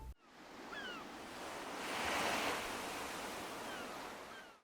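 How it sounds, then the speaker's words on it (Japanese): Steady ocean surf wash as the seaside ambient setting inside a Japanese-style house on a cape in Animal Crossing: New Horizons, a broad continuous rush swelling slightly mid-clip, with faint bird-like chirps above it. "環境音は岬に立っているので海にしておきます。"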